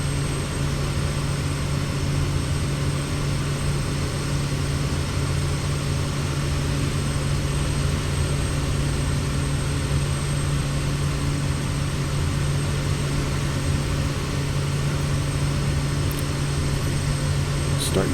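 The Kodiak 100 single-engine propeller plane in MSFS 2020, flying a cargo run toward Vancouver, gives a steady, loud, low droning hum with constant tone and no letup throughout.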